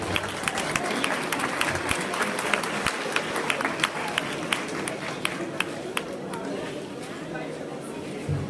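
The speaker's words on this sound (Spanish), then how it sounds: "Bienvenidos y fuerte el aplauso." A crowd at a community gathering welcoming visiting folk groups claps steadily, with a thick wash of applause mixed with murmured chatter and a few louder individual claps standing out nearby.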